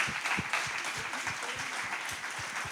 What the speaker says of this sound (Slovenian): to je zgodba za aplavz